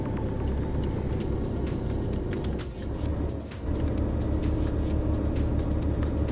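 A truck in Euro Truck Simulator 2 accelerating uphill, its engine a steady loud low rumble that briefly dips as if shifting gear, then resumes at full drone.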